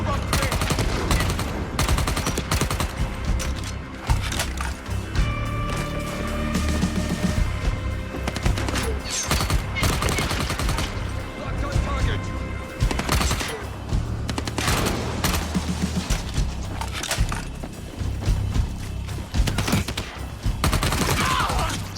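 Rapid automatic gunfire from non-player characters in the video game Dying Light The Beast, dense bursts and volleys running loud and nearly continuous, with booming low-end impacts throughout.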